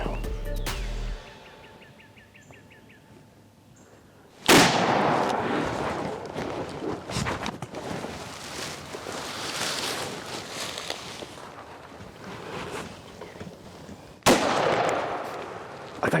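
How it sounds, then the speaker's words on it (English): Gunshots during a turkey hunt: a loud close blast after a quiet stretch, followed by a long echoing rumble, then a second sharp shot near the end. "I can shoot him right now."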